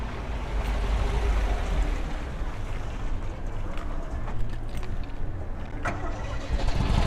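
Old engine being kickstarted outdoors, a continuous rough rumble that catches and runs steadily at moderate distance, with faint background noise.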